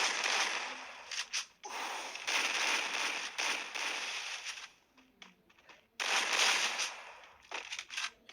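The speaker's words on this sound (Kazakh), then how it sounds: "Айттық қой бомба лақтырады." Bomb blasts in the battle game Free Fire, heard as loud bursts of explosive crackling and rumble that come in several long waves with brief gaps between them, with no talk over them.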